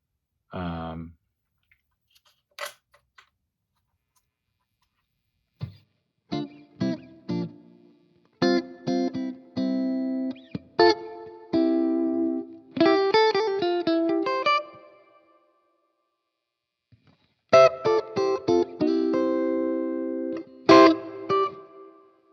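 Clean electric guitar through a Strymon Iridium set to a Fender-style clean amp tone, playing scattered single notes and short chord phrases with gaps of silence between, bright and undistorted, close and moderately loud.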